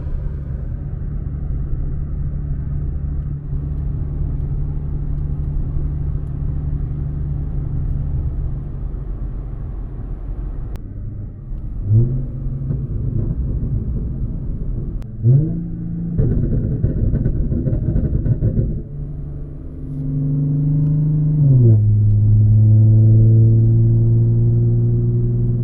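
A 2013 Audi S4 B8.5 engine runs at idle as a steady low rumble, with a few brief revs partway through and a deeper, fuller hum settling in near the end.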